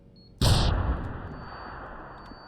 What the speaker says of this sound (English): simply shoot the explosives